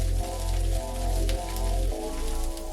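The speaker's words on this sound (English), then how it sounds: "add the sliced Goya and stir fry over medium to high heat for about 2 minutes" Sliced goya bitter melon stir-fries with spam in a hot pan over medium-high heat, giving a dense, steady rain-like sizzle with a low rumble underneath and no talking.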